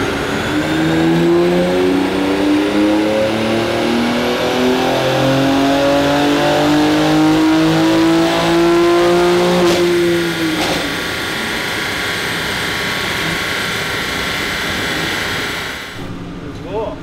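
A BMW X3 M Competition, tuned to about 750 hp, revs hard on a chassis dynamometer in fifth gear, its engine note climbing steadily for several seconds, then easing off to a loud sustained drone before dropping away at the end.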